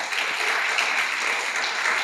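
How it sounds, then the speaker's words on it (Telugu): A congregation at an all-night prayer meeting claps in a dense, steady burst of applause that fills the whole moment evenly, loud and close, with no talk over it. "చేతులుంటే చప్పట్లు కొట్టరే."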